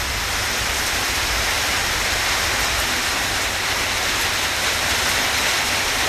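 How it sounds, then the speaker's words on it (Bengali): Heavy rain pours down on a Friday afternoon at Tetulia Zero Point, a dense, steady wash of hiss that stays loud and unbroken throughout, with no voices. "অনেক বৃষ্টি, অনেক।"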